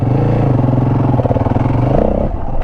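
A Yamaha WR450F dirt bike climbs a flight of stairs. Its 450 engine makes a loud, close, throbbing drone that pulses unevenly with the throttle, then eases off near the end.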